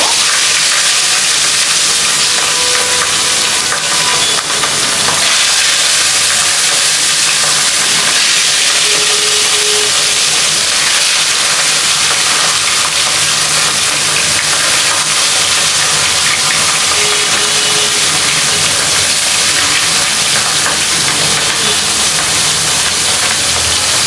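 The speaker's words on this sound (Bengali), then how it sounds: "মাছগুলো এখন ভেজে নিব" Rohu fish, rubbed with turmeric and salt, fry in hot oil with a loud, steady hiss and sizzle that runs unbroken throughout.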